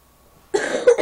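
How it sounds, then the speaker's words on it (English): A single short cough from a man recording a Minecraft PS3 session, abrupt and close after a moment of near silence, with a second smaller burst just after. "I still got a cough, by the way."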